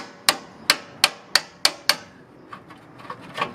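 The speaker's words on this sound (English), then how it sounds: "So I'm just bashing through this top bit without breaking my hand." Six sharp, evenly spaced hammer blows ring out on the steel slam panel of a salvaged Peugeot 107 during removal, each with a metallic ring. Softer, scattered knocks and shuffling follow.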